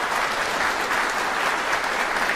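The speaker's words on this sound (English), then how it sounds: "Let's give one more round of applause." Dense, steady audience applause fills a university fine arts college convocation hall, a loud, even wash of many hands clapping continuously with no voices over it.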